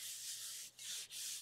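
Paper rubbed by hand over a gel press print to lift a second pull, a steady close dry scraping hiss in long strokes broken by two brief pauses, with no voices.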